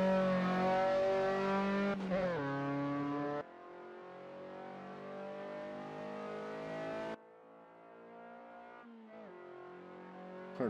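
An Austin Healey Sprite's engine revs hard and drops through gear changes as it races around the Bathurst circuit in the Assetto Corsa racing game, a steady loud buzzing drone that shifts pitch with each shift.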